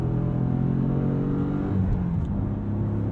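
A Dodge Challenger Swinger muscle car with manual transmission revs with a deep, loud rumble, rising and easing as the throttle changes.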